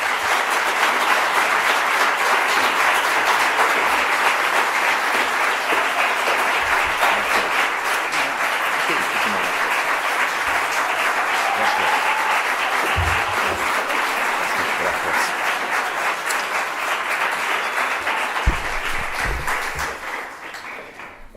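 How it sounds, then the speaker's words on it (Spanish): Sustained audience applause at a social work award ceremony as the prize is presented, loud, dense and even clapping from a large crowd that tapers slightly in the final seconds. "Un aplauso a los dos, por favor."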